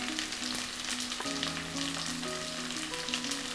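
Lima beans with a little turmeric powder stir-fry in a pan, giving a steady, close sizzle that runs unbroken throughout, with a faint tonal hum beneath it.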